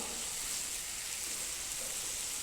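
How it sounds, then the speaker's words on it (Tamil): Ingredients frying in a pan for a spinach-and-rice dish, a steady, even hiss of sizzling that runs unbroken throughout with no voices. "நல்லா ஃப்ரை ஆகுது"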